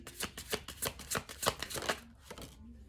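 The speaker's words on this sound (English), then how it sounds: "Let's do a little shuffle" A deck of tarot cards being shuffled close by, a quick run of crisp riffling flaps in steady rhythm, then a brief pause and a final softer shuffle.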